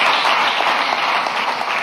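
A church congregation at an apostolic service in Jalapa, Guatemala, applauding, a dense and steady wash of clapping that fills the whole moment without a break.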